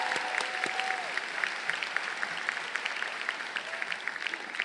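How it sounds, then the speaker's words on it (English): Graduation ceremony audience applauding award winners: a steady, dense wash of clapping from a large crowd, fairly distant and even throughout, with no voices over it. "Let's give all of our award winners a round of applause."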